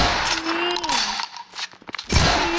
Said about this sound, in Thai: มีปืนที่แรงที่สุดอีกเกมนี่ไง